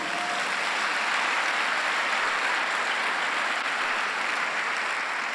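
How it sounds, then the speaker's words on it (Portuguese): A church congregation applauds during a Sunday service, a steady, full burst of clapping that fills the room for several seconds without talk. "Pode dar um aplauso a Jesus"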